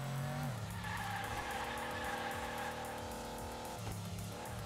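A toy-style race car drifts in Hot Wheels Unleashed, its engine droning steadily while tires squeal in a long sliding skid, with a gear-like pitch shift as the slide eases near the end.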